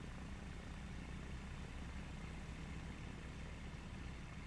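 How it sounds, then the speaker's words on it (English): A steady, quiet drone of an airplane engine heard from the cockpit in Microsoft Flight Simulator 2024, an even hum that holds without change throughout. "when sitting in the plane, the sound is better than when I stand in front of the plane"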